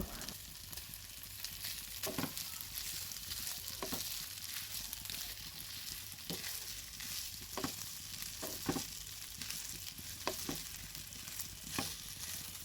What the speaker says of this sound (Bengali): টক দইগুলো ভালোভাবে মিশিয়ে এখানে ভেজে রাখা পটলগুলো দিয়ে আরও কিছুক্ষণ ভেজে নিব।